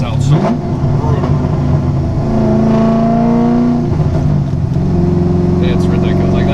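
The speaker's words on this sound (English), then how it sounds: "One of my favorite things to do is downshift in this car. It just sounds so brutal." A cammed C5 Corvette with 407 horsepower downshifts, its engine roaring loud and close in a steady rumbling drone with a sharp rev blip in the middle.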